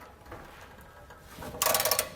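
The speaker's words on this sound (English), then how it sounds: "we can go back and torque our hardware to the specifications outlined in our instructions" A socket wrench ratchets rapidly while torquing the hardware on a Curt trailer hitch receiver being installed on a 2019 Jeep, producing a quick burst of close clicking after a quiet stretch.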